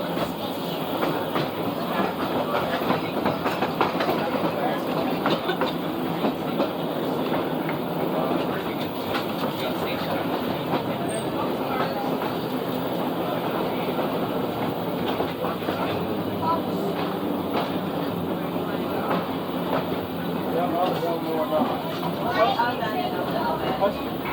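A museum railway car rolling along the track at up to 90 mph, a steady dense rumble with rhythmic clatter throughout, people talking over the noise.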